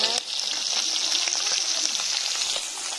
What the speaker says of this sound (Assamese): এতিয়া মাছ ফ্ৰাই কৰি আছোঁ।